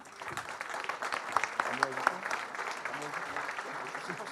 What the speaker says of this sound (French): Bravo encore une fois à vous, on peut tous vous applaudir.